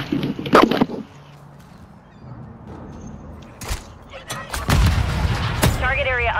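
Gunfire and heavy explosions in Call of Duty Modern Warfare 3 Hardcore Hardpoint, with a loud burst of shots early, scattered sharp reports mid-clip and a rumbling barrage near the end, under some radio-style game voice.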